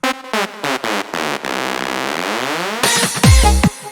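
Synth bass notes slide and swoop in pitch, with a long wavering tone in the middle and a noisy, downward-sweeping burst at the end.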